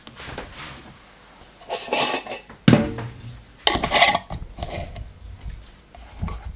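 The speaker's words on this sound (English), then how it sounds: "And then you'll put a lid on that." Glass jar being closed with a lid in a kitchen while packing a baking mix, a few short clinks and scrapes with gaps of quiet between them.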